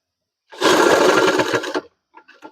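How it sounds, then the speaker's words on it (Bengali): A sewing machine runs in one fast burst of stitching across a trouser back pocket, loud and close, then stops with a few soft clicks and handling noises. "ঠিক আছে, সেলাই শুরু করলাম।"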